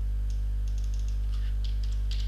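Quick clusters of computer keyboard keystrokes as a chart title is typed in Excel, crisp close clicks in short bursts over a steady low electrical hum.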